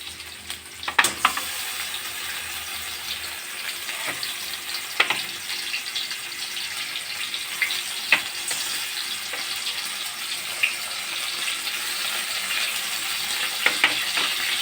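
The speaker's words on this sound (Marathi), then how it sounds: "आपल्या भाज्या 2 ते 3 मिनिटं चांगल्या परतल्या आहेत" Vegetables stir-frying for Chinese Hakka noodles, a continuous soft sizzle broken by sharp clinks and scrapes of a spatula against the pan, no one speaking.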